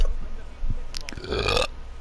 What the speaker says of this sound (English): He's burping.